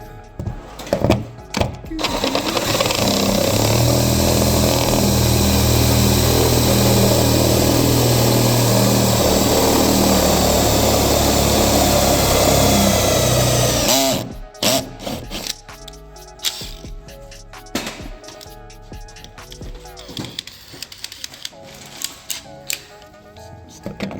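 A larger Unibit step drill bit bores into the hood of a Dodge Challenger, a loud, continuous grinding whir for about twelve seconds that stops abruptly, followed by quieter clatter and handling noises.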